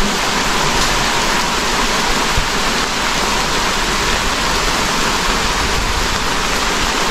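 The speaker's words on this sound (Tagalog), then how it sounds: "Ayan, talakas na talakas yung ulan." Heavy rain pours down in a steady, dense hiss, drumming on surfaces nearby with no pauses.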